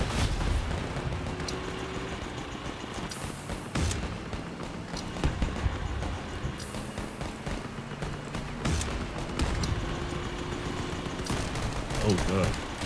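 Summator nailgun weapon firing in the Crossout vehicle combat game, with repeated shots and impacts over a dense, loud battle mix of engines and other gunfire throughout.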